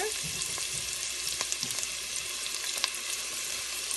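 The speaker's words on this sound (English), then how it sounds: "I'm just going to be adding my garlic and my ginger and giving this a stir" Garlic and ginger hit a pan of frying onions, a dense, even sizzle with a few soft stirring scrapes, close and steady, no one speaking.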